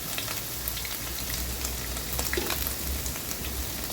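Cooking oil hitting a hot pan while making giniling, a Filipino ground-meat dish, giving a steady, even sizzle and crackle that holds at a moderate level throughout.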